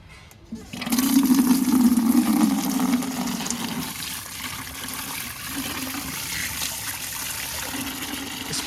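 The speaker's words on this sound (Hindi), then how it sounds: "अब हम भरेंगे थोड़ा सा पानी।" Water runs steadily into a freshly repotted rose pot, a continuous splashing gush that starts abruptly and flows on for several seconds, close by.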